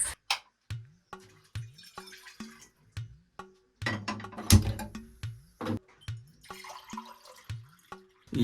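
Drinking water is poured in short separate bursts, each a bright splash with a rising gurgle, repeated in an uneven rhythm close by in a quiet room.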